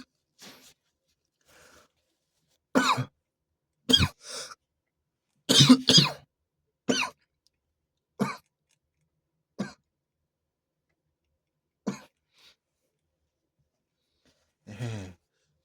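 A person coughing repeatedly, about ten separate dry coughs and throat clears spaced irregularly across near silence, close and moderately loud.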